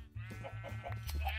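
Several close, wavering bleats from Minecraft sheep follow one another in quick succession, loud and clear over a low background hum.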